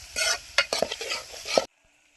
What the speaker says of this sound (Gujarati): મીઠું નાખીને પછી આ બધું એક સાથે હલાવી નાખું, સરખું મિક્સ કરી લઉં.